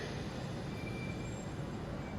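A class 442 Talent 2 S-Bahn train in Leipzig runs with a steady, even rumble of wheels and rails, with faint high tones riding above, heard alone at low level.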